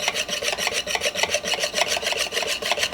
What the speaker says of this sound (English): I'm whisking this.